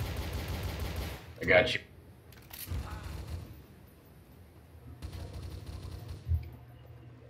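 Gunfire in Counter-Strike: Source, with a loud burst of shots near the start and further scattered shots later, heard under players talking over voice chat.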